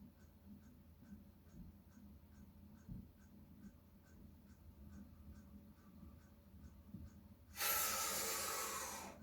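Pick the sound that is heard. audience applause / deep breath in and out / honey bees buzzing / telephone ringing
deep breath in and out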